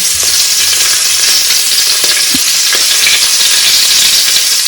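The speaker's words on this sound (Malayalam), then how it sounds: "അമ്മ ഇങ്ങനെ ഫ്രൈ ആക്കാൻ വേണ്ടിട്ട് ദൂരയിലൂട്ടി ഇടുന്നല്ലേ" Prawns fry in a pan with a steady, close, bright sizzle and hiss throughout, with a few soft bubbling pops and no talking.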